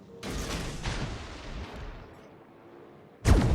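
Naval guns on a warship in World of Warships fire: a rumbling salvo rolls out and decays for a few seconds, then a sharp, loud new blast of shots hits at the end, with no talk.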